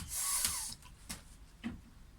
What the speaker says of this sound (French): le chat fait ses griffes là où il faut pas